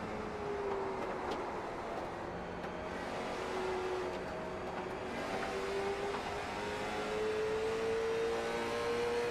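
Onboard race car number 88 on an oval track, its engine droning steadily and loudly throughout with a rising, sustained tone, no talk over it.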